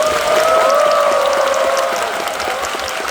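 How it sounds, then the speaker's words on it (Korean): Audience applause voting for a contestant at an essay gathering, a sustained round of clapping over a steady tonal hum, easing slightly in the final second. "우리 백재승 씨가 잘했다고 생각하는 분 박수 보내주세요."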